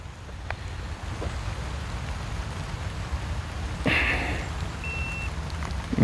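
Steady rain patters over a low background hum, with a few louder drips and a brief high electronic beep partway through.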